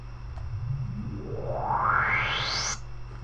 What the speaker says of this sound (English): you take the white noise and you put a low pass filter on it with the resonance all the way up